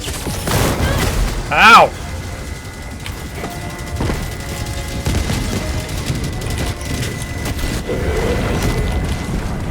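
Helldivers 2 battle audio: repeated booms and gunfire crackle through the fight, with one loud blast standing out, under players' voices and a shouted cry.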